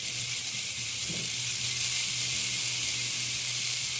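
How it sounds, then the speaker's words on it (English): Garlic and onions sizzle in butter in a pan, a steady, close, bright hiss holding evenly throughout with no talking over it. "And I'll drop my garlic and onions in there, get them starting to sweat."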